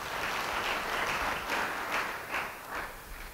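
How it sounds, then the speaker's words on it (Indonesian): Church congregation clapping in a dense burst that swells and then tapers toward the end, with a few sharper individual claps standing out near the close. "Yang setuju beri tepuk tangan bagi dia."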